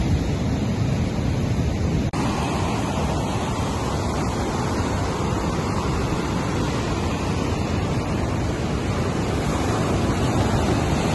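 Sea waves roll in on the Odessa coast in a loud, continuous surf roar, broad and unbroken, with some wind buffeting the microphone and one brief click partway through.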